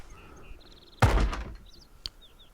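A zombie bangs once on an internal wooden door in Project Zomboid, a single heavy, loud thunk with a short rumbling decay. Faint chirps and a soft later knock sit around it.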